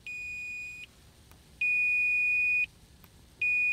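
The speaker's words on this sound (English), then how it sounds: "if these get touched together, it makes a beeping sound" Three steady electronic beeps from a multimeter continuity test, each a clear sustained tone lasting about a second, separated by short pauses; close and fairly quiet, no talking.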